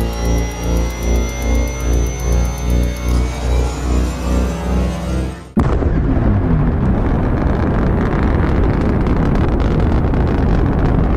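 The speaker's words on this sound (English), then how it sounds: "The engine is starting" An engine starts: a steady rhythmic idle pulses for about five seconds, then cuts sharply into a loud roaring rush that holds strong to the end, with no voices.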